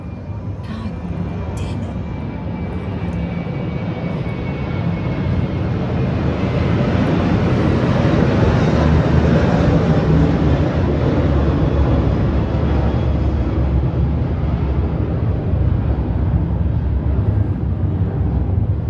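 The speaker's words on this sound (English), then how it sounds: "is that another airplane?" An airplane passes overhead as a loud, broad roar that swells and then holds steady for many seconds. A voice speaks briefly early on.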